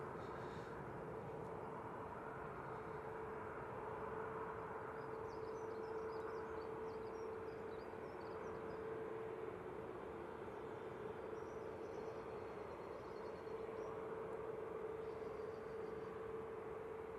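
A KLM Airbus A321neo at Manchester Airport gives off a steady distant engine rumble with a sustained tonal whine, faint and continuous.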